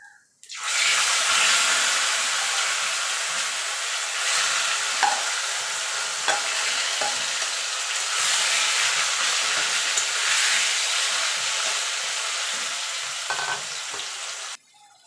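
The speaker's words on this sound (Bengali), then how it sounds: "ফোড়নটা হয়ে গেছে, এবার কচুর শাকটা দিয়ে দেবো" Taro leaves stir-fried in oil tempered with bay leaf and whole cumin. A loud, continuous hiss of frying runs throughout with faint stirring scrapes beneath it and no talk.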